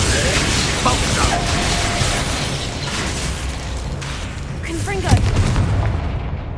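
Expulso explosion spell in the video game Hogwarts Legacy on PS5, a dense continuous rumble of blasts and game effects with a sharper burst near the end and voices in the mix.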